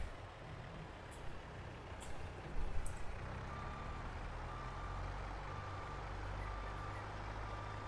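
A skid steer in Farming Simulator 22 backs up, its evenly spaced reversing beeps sounding fairly faint over a low, steady engine rumble.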